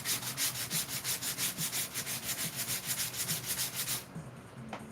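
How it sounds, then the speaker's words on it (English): Rhythmic back-and-forth hand sanding of body filler, a rapid scratchy rubbing repeated steadily, close up, then stopping abruptly near the end. "So when you're sanding filler,"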